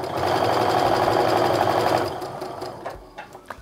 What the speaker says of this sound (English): I set my sewing machine back to a regular quarter inch stitch